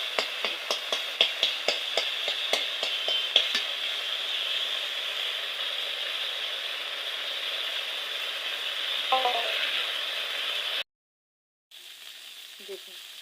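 Moringa leaves fry in a pan with a steady, close sizzle; quick rhythmic taps of stirring open the sound, then the hiss carries on evenly, broken by a brief silent gap near the end.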